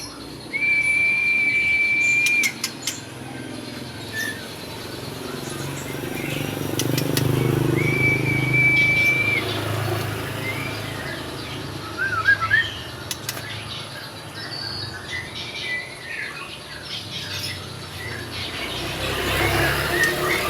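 A caged songbird with ring code 066 from a Indonesian bird-mastering class sings clear, sustained whistled notes in a few long phrases with brief chirps between them, over faint background traffic and room noise.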